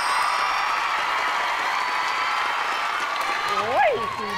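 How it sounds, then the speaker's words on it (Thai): Studio audience on a Thai TV dating show, one31's 2023 series, clapping in a steady, even wash of applause that holds at a constant level, with a brief swooping tonal effect near the end. "ขอเสียงปรบมือให้กูรูมะตูมด้วยอ่ะ"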